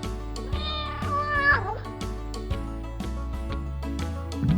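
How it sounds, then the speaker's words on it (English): A cartoon cat meows several times in drawn-out, rising and falling calls, close and clear, over a backing of playful children's music. "can you hear that purring sound?"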